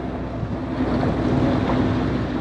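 Wind blows hard across a boat on open water near Miami, a loud continuous rushing buffet with microphone noise and wave wash beneath.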